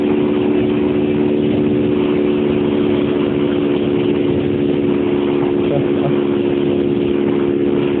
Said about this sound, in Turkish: itle itle yavaş gidiyor benim motor. Biraz daha hızlansın.